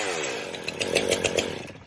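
A STIHL MS 500i chainsaw fires up after a restart with the compression release pressed in and chain brake set, its engine revving hard and close with rising, pulsing bursts of acceleration and no talking.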